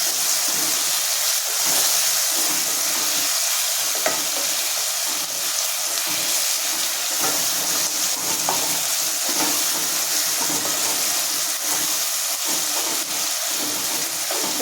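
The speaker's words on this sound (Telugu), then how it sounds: "అల్లం వెల్లుల్లి పేస్ట్ పచ్చివాసన పోయేదాకా వేపుకుంటే సరిపోతుంది." Ginger garlic paste frying in a pan for a pumpkin sambar, a loud continuous hiss and sizzle that holds steady throughout with faint stirring scrapes and no voices.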